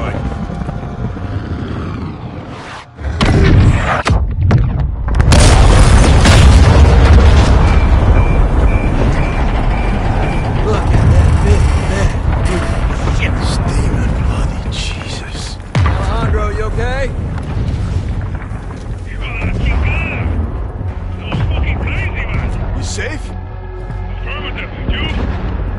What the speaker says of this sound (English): All stations, prepare for the boom.